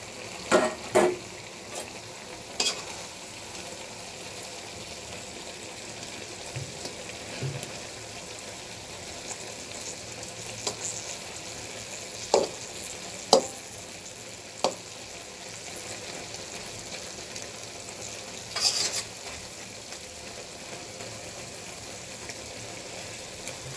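Fish frying in a pan with kalmi greens, a steady low sizzle with occasional sharp clinks and scrapes of a utensil, and no voices.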